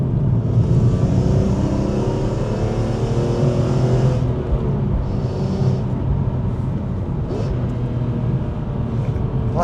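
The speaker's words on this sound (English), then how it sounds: "Like rev matching this engine," A BMW E46 M3 engine revs and settles during rev-matched downshifts, a steady loud rumble with rising and falling pitch sweeps, heard close up from inside the car with no talking.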